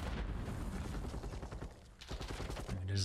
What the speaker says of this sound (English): A lot of gunfire being exchanged